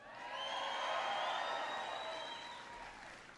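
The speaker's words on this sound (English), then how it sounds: "Give him a big round of applause." An audience at President Obama's speech on homeownership applauds steadily for about three seconds, with a few whistles and cheers rising above the clapping before it slowly fades.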